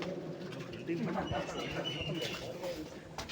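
Pigeons coo faintly inside an empty, echoing temple tank, soft and low beneath steady background noise.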